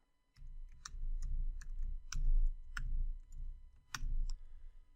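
Fingers tap out a date on a computer keyboard in a quiet room, a close run of crisp clicks and thuds in an uneven rhythm with short pauses between bursts.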